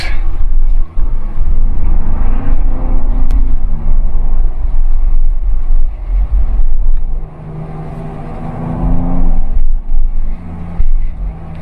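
A 2024 Ford Bronco in sport mode revs its engine hard, a loud, deep rumble that climbs and holds, eases off briefly, then surges again.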